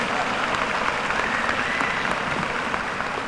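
Audience applause at the 2018 Wayne Memorial High School graduation ceremony, a dense, steady wash of clapping from a large crowd that holds evenly throughout.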